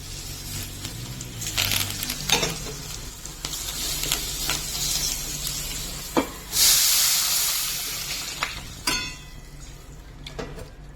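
Mustard seeds, asafoetida, cumin, pepper and dried red chillies sizzle and crackle in hot oil for tomato rasam, a steady loud frying hiss with sharp pops and a burst of steam, plus occasional clinks of a spoon.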